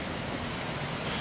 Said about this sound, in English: but we're back down along the river. You can hear it in the background there.